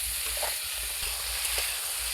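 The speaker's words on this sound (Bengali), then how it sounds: "একটু ভালো করে যে নাড়িয়ে চাড়িয়ে আলু আর ঝিঙে কষিয়ে নেব।" Potato and ridge gourd stir-frying in hot oil, giving a continuous dense hiss with faint stirring knocks, close and steady with no voices.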